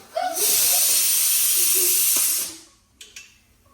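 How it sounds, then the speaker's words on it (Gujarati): A sharp burst of hot-oil sizzle as mustard seeds and sesame are tempered for dhokla rises suddenly, hisses loudly for about two seconds, then fades, followed by a few faint clinks. "હો આવા મમ્મી લાગ્યા છે વઘાર કરવા ઢોકળાનો"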